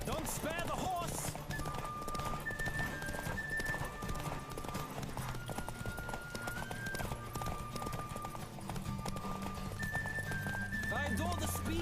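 Horse hoofbeats from The Witcher 3 video game, a steady galloping clip-clop running through the whole stretch beneath game music, with a voice speaking over it.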